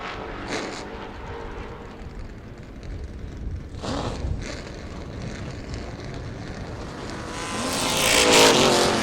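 Race car number 4 lapping a short oval during a Trifecta event with Modifieds, Street Stocks and Limited Late Models, its engine droning steadily and swelling louder as it passes close near the end.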